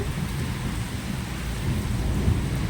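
Heavy rain pours down steadily with rumbling thunder underneath, a dense, continuous roar close by with no voices.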